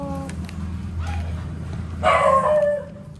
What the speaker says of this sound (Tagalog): Yan, mga aso ni Kiray